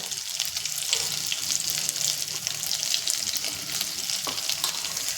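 Ground masala paste sizzles in a pan with curry leaves for a traditional Maharashtrian ghut, a steady dense frying hiss with faint stirring scrapes, close and without talk.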